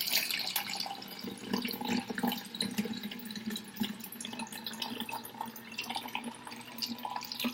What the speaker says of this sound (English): you're just going to take your bottle and then you're going to pour